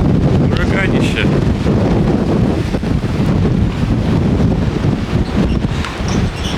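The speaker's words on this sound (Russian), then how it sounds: "Ветрища" Hurricane-force wind before a storm in Siberia roars loud and unbroken, a thick rushing gust that buffets the microphone, with a voice faintly underneath.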